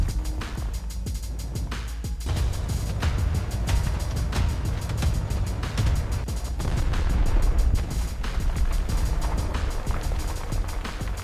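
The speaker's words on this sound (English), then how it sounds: "It's the sound of thousands of steel balls crashing together." A ball mill grinds copper ore as thousands of steel balls crash together inside it, making a loud, continuous roar of dense clattering impacts that never lets up.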